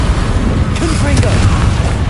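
A Confringo blasting spell bursts in Hogwarts Legacy with a loud booming explosion that rumbles under a shouted voice, with low-end thuds layered through the short span.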